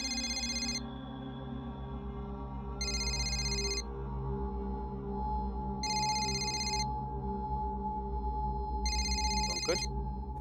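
A telephone ringtone in a Hindi family sitcom scene repeats in four evenly spaced electronic bursts, clear and fairly loud over a low, constant background hum and music.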